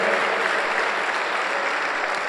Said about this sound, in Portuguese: Você pode dar um aplauso a Ele?